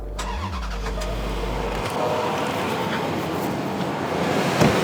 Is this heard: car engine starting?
yes